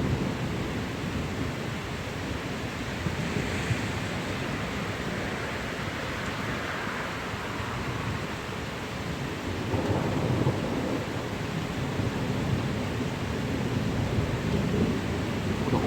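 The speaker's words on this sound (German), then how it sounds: "das Gewitter nimmt jetzt auch an Stärke ab." A thunderstorm that is losing strength: steady rain hisses throughout, with low, rolling rumbles of thunder building and fading under it and a slight surge in intensity near the end.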